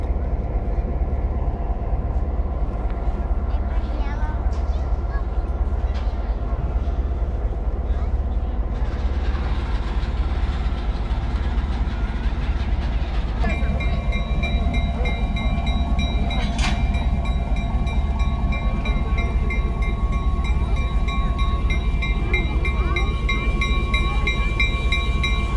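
The Skunk Train excursion train rolls along the rails in a long, steady, close rumble. Partway through, a sustained tonal squeal or horn joins in, and muffled voices can be heard beneath the noise.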